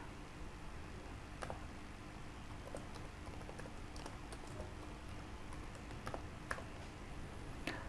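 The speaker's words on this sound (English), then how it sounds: "After typing this code, just press enter" Someone types code on a computer keyboard with a steady, irregular patter of light key clicks, close up and quiet, with no talk over it.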